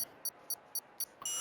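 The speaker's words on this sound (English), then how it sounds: "As I can hear the beeps." Race start beeps from an iRacing sim racing game: four short, evenly spaced high electronic tones, then a longer sustained final tone, clean and distinct over a faint background.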